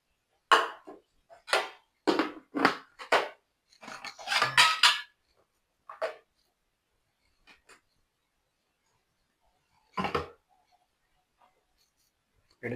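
Clattering kitchen dishes and a lid being set over cooked chicken: a series of sharp, separate knocks and clinks in the first few seconds, then sparse isolated taps amid near silence.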